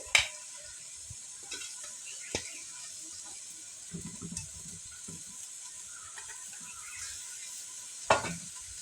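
Potato and cabbage curry stirred in a pan, with a soft sizzle running throughout and scattered scraping clicks of the spoon, plus a couple of sharper knocks near the start and end.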